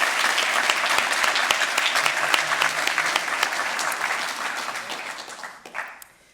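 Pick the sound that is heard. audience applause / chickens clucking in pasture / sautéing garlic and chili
audience applause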